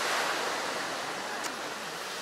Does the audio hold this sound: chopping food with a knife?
no